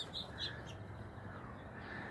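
Birds inside a house give a few faint, short calls and chirps over a quiet background hum.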